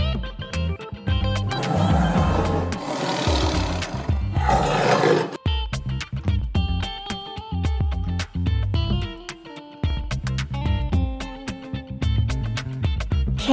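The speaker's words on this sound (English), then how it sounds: "Tiger." A tiger gives a loud, close roar lasting a few seconds, set over a bouncy backing music track that continues afterward.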